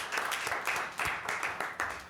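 A small audience at a town council meeting gives a brief, fairly quiet round of clapping, with several distinct bursts of hands in quick succession.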